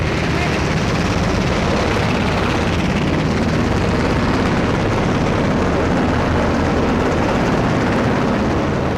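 A medical evacuation helicopter in flight carrying wounded, its rotor and engine roar loud, dense and constant, filling the whole stretch with steady noise and no break.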